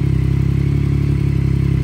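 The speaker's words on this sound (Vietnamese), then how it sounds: "nổ máy lên đó các bạn nghe không tiếng MT09" A 2022 Yamaha MT-09 motorcycle engine idles steadily up close, its low rhythmic thrum pulsing evenly with no voices.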